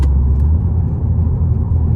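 Supercharged Chevrolet Corvette C7 with headers and MagnaFlow exhaust, heard as a steady loud low rumble throughout, close by, with no voices.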